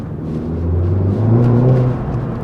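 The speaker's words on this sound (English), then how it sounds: "the exhaust note is always there" A Volkswagen Golf GTI Clubsport S or GTI TCR exhaust, heard from inside the car as a loud, steady low rumble with a deep droning note that rises slightly midway.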